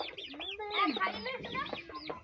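Chickens and a rooster cluck and squawk in a rapid, overlapping series close by, a busy flock calling continuously through the whole stretch with no talking over it.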